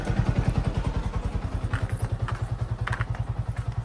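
A motorcycle engine thumps in a steady, even rhythm close by, idling loudly and alone with a few light clatters on top as the bike is brought in and parked.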